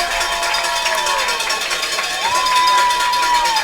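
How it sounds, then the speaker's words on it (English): A high school football crowd roars as the Silver Creek team runs onto the field, a dense, loud wash of cheering with whistle-like tones rising through it. "Hear the crowd react."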